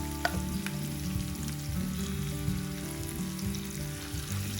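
Ground gongura and onion chutney being stirred into a hot frying tempering, a steady low sizzle with soft scraping stirs recurring throughout, close and continuous with no voices.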